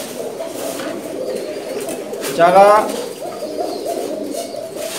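Pigeons coo in a loft at a large pigeon market in Dhaka, a dense, low, steady murmur from many birds. Midway a brief, louder burst stands out above it, and a person speaks briefly.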